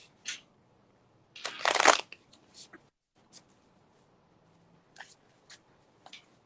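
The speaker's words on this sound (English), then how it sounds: "I'm trying to loosen up these cards. I never shuffle them like this" Tarot cards are shuffled by hand in a quiet room, a burst of riffling in the middle surrounded by scattered papery flicks and soft taps.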